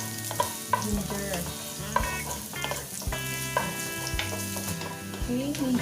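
Ginger frying in hot oil until golden, a busy crackling sizzle with spoon stirring clinks, close and continuous, under background music.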